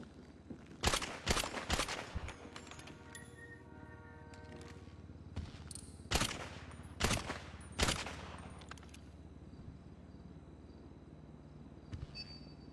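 Bursts of video game gunfire crackle in several loud volleys over a steady background hum, with quieter pauses in between and no talk.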